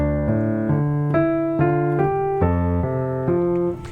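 A piano plays two bars of a piece, a sequence of clear, sustained chords and single notes moving in steady rhythm, close and alone with no talk.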